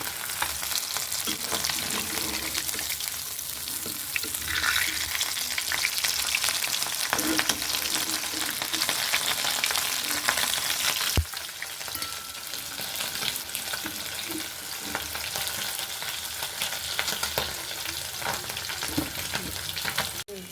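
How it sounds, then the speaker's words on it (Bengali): Tengra fish frying in oil in a pan, giving a long, steady, loud sizzle full of fine crackling pops, with a brief clatter about halfway through and no voices. "মাছটা একটু ভাজতে বেশ সময় লাগে, আর কি পটপট করে করতেছে"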